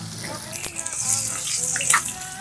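Carabao meat sautéing in a pan gives a steady, close sizzling hiss with a few brief louder bursts, and a voice speaks faintly over it.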